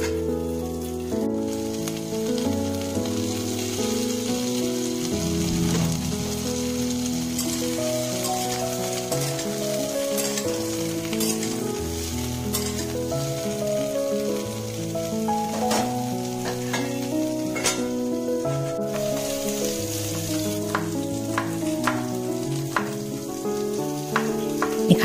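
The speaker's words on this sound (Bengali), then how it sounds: "এই কড়াইতে আমি পটল ভাজাটা তুলে দিলাম" Pointed gourd (potol) sizzles steadily in oil in a wok, a continuous crackling fry with scattered pops and stirring scrapes lasting throughout, close up with no voices.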